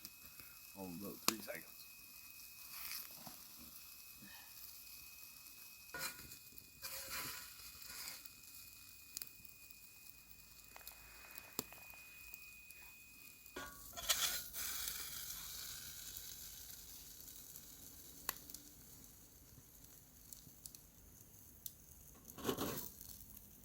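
Bacon sizzles in a pan over a campfire outdoors, a faint steady crackle running throughout, with occasional clinks and handling noises and a brief tone early on.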